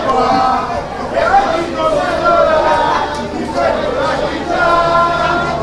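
Packed stand of football fans at the Stadio Comunale in Dimaro Folgarida, a loud continuous babble of crowd chatter and overlapping voices filling the space throughout.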